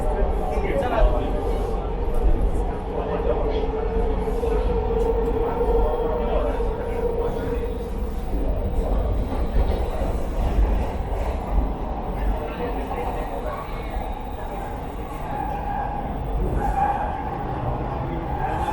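A Toronto subway train rolls toward Castle Frank Station, a steady loud rumble of rail and car noise that runs throughout with rising and falling tones and faint voices in the background.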